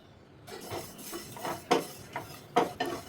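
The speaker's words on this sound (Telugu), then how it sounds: "కొన్ని నువ్వులు కూడా వేయించుకోవాలి" White sesame seeds roast in a kadai while a spatula scrapes and stirs them. Sharp metallic scrapes come in uneven strokes over a quiet background.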